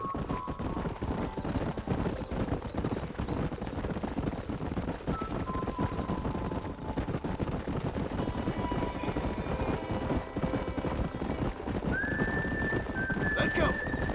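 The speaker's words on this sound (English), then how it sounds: "There's the horses!" Horses in the Red Dead Redemption game neigh and whinny over steady clip-clopping hooves, amid a busy, continuous background of game sound and occasional voices.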